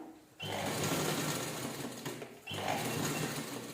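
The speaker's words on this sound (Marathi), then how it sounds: "आता पूर्ण राऊंडला आपण एवढ्या सर्कलला स्टिच करून घेऊया." A sewing machine stitches around a fabric circle with a fast, steady mechanical whirring clatter in two bursts, separated by a short pause, at close range.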